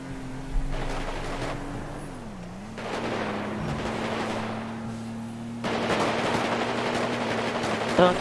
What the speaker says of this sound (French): T'entends les tirs?